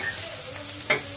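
Food frying with a little salt in a pan, stirred briefly: a soft, steady sizzle with one sharper scrape of the spatula near the end, no voices.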